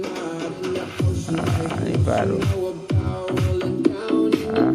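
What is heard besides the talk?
music playing through UE Wonderboom Bluetooth speaker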